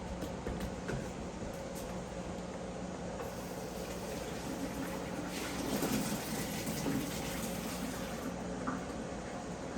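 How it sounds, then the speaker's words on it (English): Running water gushes steadily into a sink, rinsing freshly boiled potatoes to cool them for potato salad, a continuous close splashing rush with a slight swell partway through, no voices. "we're going to dump it in, rinse it out real quick"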